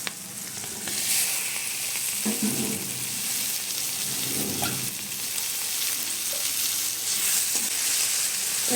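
Tomatoes going into onions already frying in a pan: a continuous, fairly loud sizzle broken by a few scraping stirs and brief bursts near the start and middle, with no voices.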